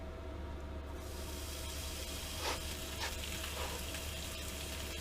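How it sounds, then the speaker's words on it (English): Bacon and eggs fry for a breakfast sandwich, giving a continuous low hiss and sizzle with a few faint crackles and pops over a constant background hum. "We're just gonna throw some bacon and eggs and let's see how that turns out."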